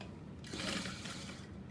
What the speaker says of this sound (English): we're only sewing the side seams